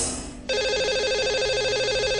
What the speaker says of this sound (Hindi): तो लगाते हैं इन्हें कॉल और करते हैं इनसे बात।